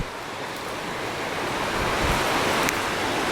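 A creek flows beneath a big rock cliff, its water giving a broad, steady rushing wash that swells slightly and holds close and constant throughout.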